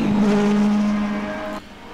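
A Mercedes AMG race car in a sim racing game runs at full throttle, a steady high engine drone, loud and close, that shifts and drops slightly near the end, with no talking.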